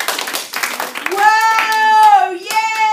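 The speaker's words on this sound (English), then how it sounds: "Applaudissez-le avec enthousiasme!" A classroom of French-one students applauds, a burst of hand clapping mixed with children's cheering and whooping voices that rise into sustained shouts near the end.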